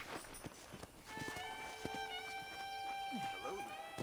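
Horse hooves clip-clopping in the Red Dead Redemption video game, a steady run of hoofbeats under game music tones and a voice speaking throughout.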